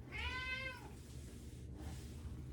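A single drawn-out cat meow, clear and fairly close, followed by quiet room noise with a low hum.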